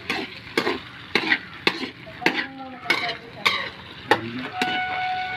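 Menudo being stirred in a pan, a utensil scraping through the stew in regular strokes about every half second over a low sizzle, with a voice talking briefly partway through.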